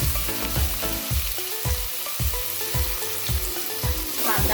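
Onion frying in hot oil with cumin, bay leaves and asafoetida, a loud continuous sizzle with regular rhythmic stirring scrapes roughly every half second.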